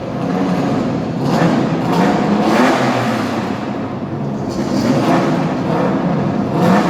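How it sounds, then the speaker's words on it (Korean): A rotary-engine race car starts up and revs at a Suzuka engine sound event. A loud, continuous buzzing engine drone swells and eases through repeated revs, close and steady throughout. "본격적으로 시동을 겁니다."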